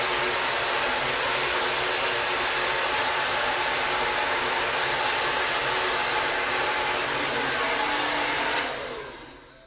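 A hair dryer blows hair while a round brush works through it, a loud, close, steady roar holding for most of the stretch before cutting off near the end, with no talking.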